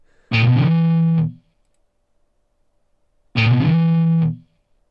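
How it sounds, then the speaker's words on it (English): Two sustained chords ring out on an electric guitar run through an amp simulator with overdrive, dirty and buzzing. Each lasts about a second, with a clean silent gap between them and no voices. "And also over here I have some overdrive. That's what's making it sound dirty."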